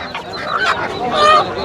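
Close, loud honking and quacking calls from several birds, geese, ducks and village hens squawking over one another in a noisy burst at a rural market in Bangladesh.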